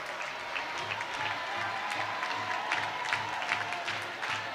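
At a college softball game between Oklahoma and Abilene Christian, the stadium crowd keeps up sustained applause and cheering after an RBI double. The broad, steady noise holds throughout, with a rhythmic thumping underneath.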